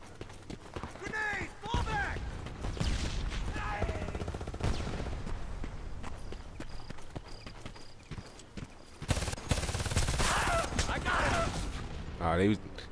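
Scattered gunfire from the opposing team in Homefront multiplayer on PS3, crackling in bursts through a park battle amid hoofbeat-like clatter and game noise, with someone talking over it.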